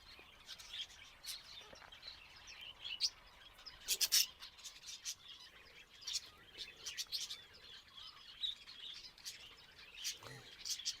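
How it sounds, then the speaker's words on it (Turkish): Indian bulbuls chirping as they return to a backyard bird coop, with scattered bright tweets and short calls at a moderate distance. "Gördüğünüz gibi gelen iki Hint bülbülü de rahat bir şekilde kümese gerisin geriye girdiler."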